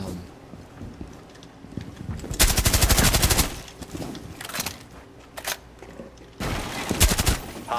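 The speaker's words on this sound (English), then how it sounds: "unlike others, has a fully auto shotgun" Bursts of fully automatic shotgun fire in the Rainbow Six Siege video game, two loud rapid strings of blasts separated by quieter scattered shots and background game noise, with a voice speaking over it.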